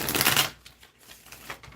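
A brief rustling burst of tarot cards being shuffled, followed by softer slides and taps, close and quiet with no voices.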